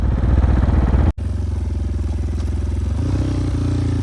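A Honda XR dirt bike engine pulling in first gear on trails around Moab, a steady close buzzing drone with a brief dropout, then a slight rise in pitch.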